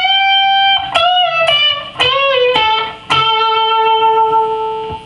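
An electric guitar lick rings out alone, with sustained notes that bend up and release, a pull-off and a final held note fading away.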